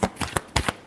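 Tarot cards being shuffled by hand, a quick riffling series of four or five crisp, close flutters within less than a second.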